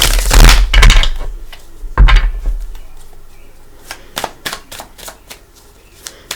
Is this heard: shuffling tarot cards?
yes